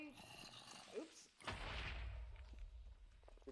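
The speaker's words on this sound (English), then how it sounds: "I heard the explosion." Explosion in Minecraft, a sudden loud boom with a rumbling tail that lingers for a couple of seconds, following and overlapping faint speech.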